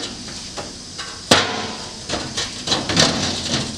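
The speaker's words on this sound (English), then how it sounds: "so you can drop in the tray." A metal tray dropped into the loose bed of a Jetta MK4 ute build, giving one sharp metallic clank followed by several lighter knocks and rattles as it settles, close and fairly loud.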